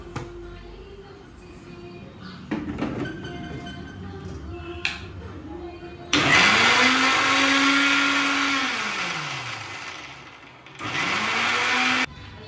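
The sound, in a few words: mixer grinder grinding masala paste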